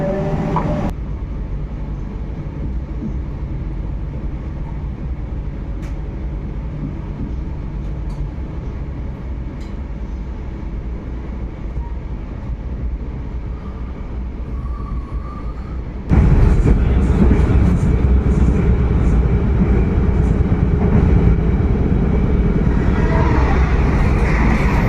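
Argo Merbabu passenger train running on the north Java line near Pekalongan, a steady rumbling roll heard from inside the carriage that suddenly grows louder and harsher partway through.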